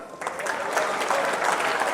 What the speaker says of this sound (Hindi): बहुत बहुत बधाई, तालियां।